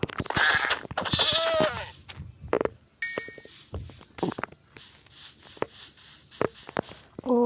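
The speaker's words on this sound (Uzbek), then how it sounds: "Echkini o'ldiramiz." A goat in the Minecraft video game bleats several times in short, wavering calls, mixed with game footstep and action sounds, fairly close and clear, with no talking.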